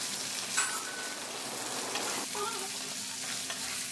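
Ivy gourd and garlic stir fry being stirred in a pan, a steady close sizzle with scraping and shuffling of the vegetables, continuous and fairly loud throughout.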